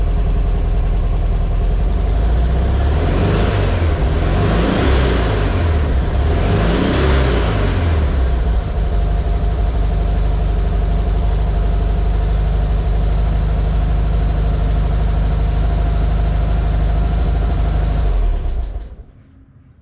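A 1971 Volkswagen Super Beetle engine runs close by and is revved in several surges early on, each rising and falling in pitch. It then settles into a steady, rumbling idle and cuts off abruptly at the end.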